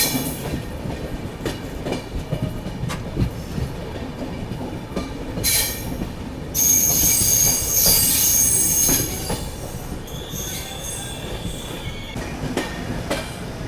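An Indian Railways Bundelkhand Express crosses from the main line onto a loop at slow speed, its wheels squealing loudly through the points for a few seconds amid steady rumbling and clatter, with another train passing on the adjacent track.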